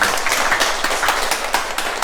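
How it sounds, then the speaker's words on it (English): A live audience claps in a round of applause at a bookstore reading in Taichung, Taiwan: a dense, steady patter of many hands for about two seconds, fairly loud and with no talk over it. "So can we give them a round of applause,"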